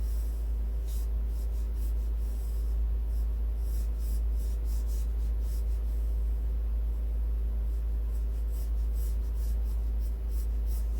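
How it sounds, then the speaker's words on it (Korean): A pencil traces an ellipse on paper in soft, faint scratching strokes over a steady low hum in a quiet room. "여기에 맞는 타원을 역시 그어주시면 됩니다"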